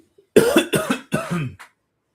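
Three or four harsh coughs in a quick burst, close and loud, followed by a faint trailing exhale.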